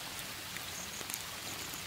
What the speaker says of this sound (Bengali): বৃষ্টি পড়ছে, বৃষ্টি চলে এসছে সম্ভবত